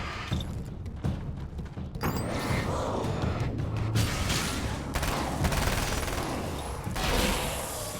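SMG gunfire in the video game Alan Wake's American Nightmare, rapid bursts of shots blending into dense, continuous combat noise with thuds and mechanical clatter throughout.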